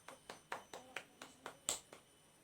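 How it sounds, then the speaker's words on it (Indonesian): Short, evenly spaced claps in a classroom after a student presentation, about eight sharp hits at a brisk pace, quiet and thin as though from only a few hands, with no voices. "Ayo kita beri tepuk tangan."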